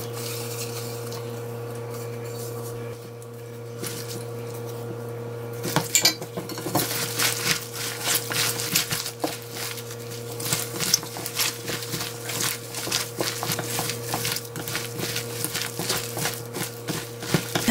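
Seasoning is spread over green garlic for kimchi: close metal utensils clink and tap against a bowl, sparse at first, then busy and irregular over a faint steady kitchen hum.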